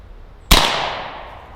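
AEA Defender 2 air rifle with a short barrel firing a 178 grain slug at a target 10 yards away: a single sharp, loud crack close by that decays into a brief ringing tail, with no talking.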